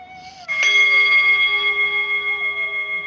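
A single yoga meditation bell struck once, giving a bright ringing tone that sustains and slowly decays with a gentle wavering shimmer, loud and close, with no voices.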